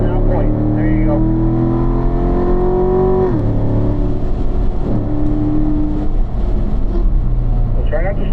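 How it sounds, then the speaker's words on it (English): A Corvette accelerates on a performance driving school track, its engine note climbing steadily, dropping at a shift, then rising again, loud and close inside the car while an instructor talks over it. "Get the car over to the right and accelerate at that point."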